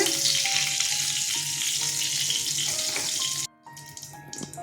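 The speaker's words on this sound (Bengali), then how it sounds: "আলুগুলো ভেজে নেবো আর একটু তেল দিচ্ছি সর্ষের তেল দিয়ে দিচ্ছি" Potatoes frying in mustard oil in a pan, a steady bright sizzle running close and loud throughout, dropping out briefly near the end before resuming more softly.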